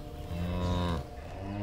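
Cows in the video game While We Wait Here give a long, loud, resonant moo close by, its pitch dipping near the end before continuing more softly.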